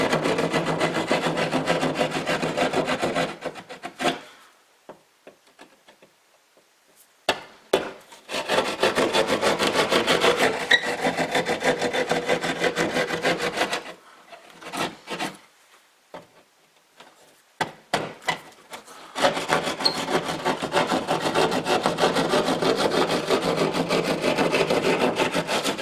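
Hand saw cutting drywall to repair a large hole, rough rasping strokes in three long bursts separated by short pauses, close and loud with no talking.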